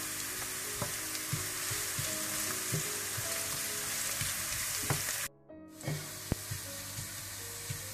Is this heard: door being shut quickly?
no